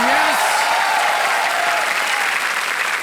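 Studio audience on Kaun Banega Crorepati clapping steadily and loudly at the start of the game, a dense continuous wash of applause with a brief rising whoop near the beginning.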